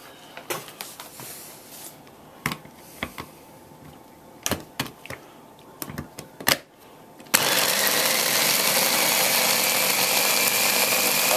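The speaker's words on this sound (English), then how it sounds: "We're going to put it in the grinder" A Ninja grinder chopping dried smoked salmon starts abruptly and runs as a loud, steady whir to the end, after scattered clicks and knocks of handling beforehand.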